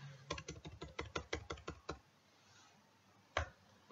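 Close, fast keystrokes on a computer keyboard while code is typed, about a dozen crisp clicks in a quick run, then a pause and one last tap, quiet and with no talking.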